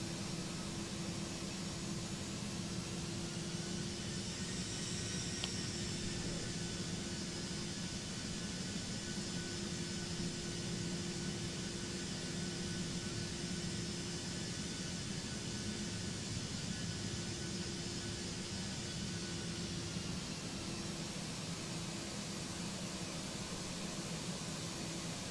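Simulated Airbus A321neo jet engines in X-Plane 12 hold a steady, loud broadband roar with a constant low hum during a rolling takeoff, unchanging and uninterrupted for the whole stretch with no talking.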